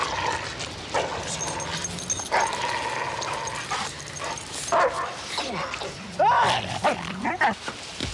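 Dog barking, yipping and whimpering in a scene with a dog attacking a man, loud and close, under and between shouted talk from people.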